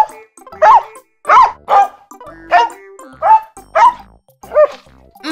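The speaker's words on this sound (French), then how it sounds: "Le chien aboie." A dog barks six times in a loud, evenly spaced series of sharp, close barks with short silences between them.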